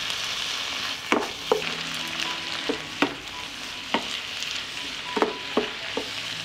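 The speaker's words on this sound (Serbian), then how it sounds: "Sve ću promešati i pržiti." Chopped vegetables and zucchini flesh fry together in a pan with a steady sizzle, while a spoon stirs and scrapes against the pan in sharp clacks about every half second. There is no talking.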